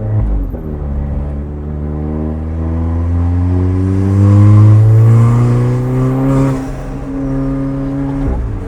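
A tuned Alfa Romeo 4C's small 1.7-litre turbo engine revs up close by, its pitch climbing steadily, holding high and then dropping back, loud and unbroken with no talking.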